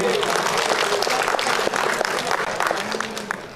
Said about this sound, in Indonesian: Berikan tepuk tangannya Bapak Ibu.